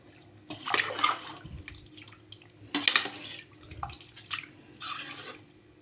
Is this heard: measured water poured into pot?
yes